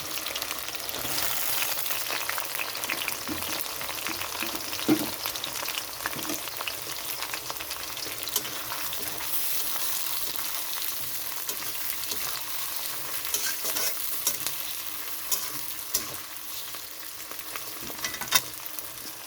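Onion, tomato, bay leaf and ground masala fry in oil in a pan for mutton kosha, a steady loud sizzle with scraping stirs and occasional pops running throughout, close up and without talk.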